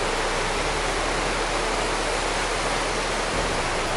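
Steady, dense roar of a waterfall along a mountain-valley hiking trail in Corsica, a loud continuous broadband wash with no pauses, close by and unbroken for the whole stretch.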